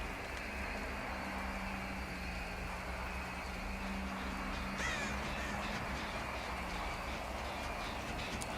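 A crow caws faintly in the Dead by Daylight game, a couple of short harsh calls around the middle over a steady ambient game background hum.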